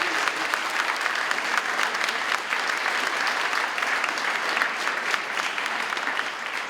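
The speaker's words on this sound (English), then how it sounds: "Can we give the finalists one more time a round of applause?" An audience at a civic and community awards ceremony gives the finalists a dense, continuous round of applause, many hands clapping steadily at an even level throughout, with no talk.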